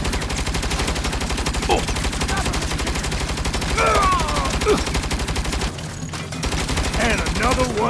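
Rapid turret gunfire in the Saints Row (2022) game keeps up a dense, loud, continuous stream of shots with only a short break near the end, while voices shout over it.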